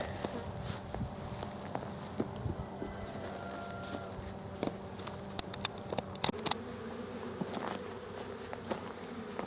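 Honeybees swarm around an open, aggressive hive, a dense steady hum of many wings close by with individual bees droning past, plus scattered light knocks and taps of hive handling, no speech.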